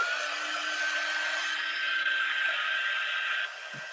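A hair dryer runs steadily close by as it dries acrylic paint on a canvas, giving a constant whirring blow. Its pitch shifts slightly, then the sound drops lower near the end with a small knock.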